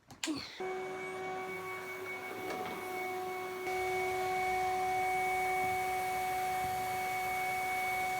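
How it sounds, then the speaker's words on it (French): A vacuum cleaner starts with a knock and rises to a steady, droning motor whine, used to suck a tiny spider off a ceiling, running evenly and fairly loud with no talking. "J'ai donc décidé de l'aspirer."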